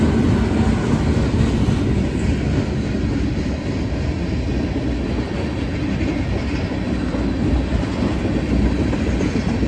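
A freight train carrying brand new tank cars rumbles past nearby, a loud steady roar with rhythmic clacking of wheels over rail joints.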